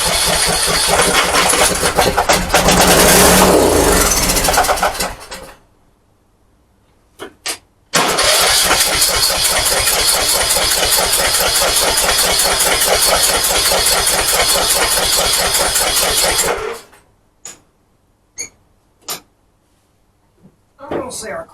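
A Craftsman T1600 lawn tractor engine cranks and catches, runs loudly and roughly for about ten seconds, cuts out, then sputters in a few brief attempts, with talk nearby.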